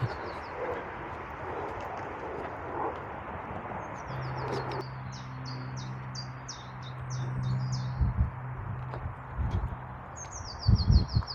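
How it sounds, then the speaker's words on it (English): Birds chirp and sing in short repeated bursts, fairly clear over a steady outdoor background, with a low hum and a few thuds toward the end. "Got the really nice sound of the birds"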